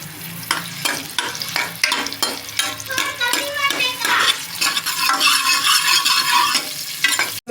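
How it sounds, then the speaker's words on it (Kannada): Sliced onions frying in hot oil for an egg sambar, a steady sizzle broken by repeated spoon stirs and scrapes against the pan, close and loud with no talk. "ಈರುಳ್ಳಿನ ಸ್ವಲ್ಪ ಫ್ರೈ ಮಾಡೋಣ."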